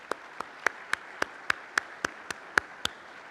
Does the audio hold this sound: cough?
no